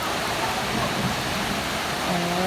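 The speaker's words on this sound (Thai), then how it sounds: "ฝนตกหนักเลยนะคะ" Heavy rain pours down in a steady, dense hiss that stays constant throughout, with a faint tonal sweep rising near the end.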